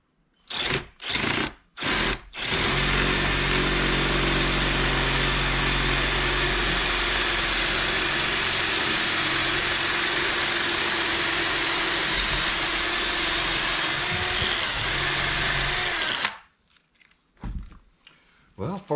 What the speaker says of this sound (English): let's get this last one drilled, and then we can see what we can do about putting them handles in.